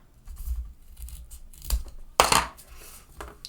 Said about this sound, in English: we are going to cut them in half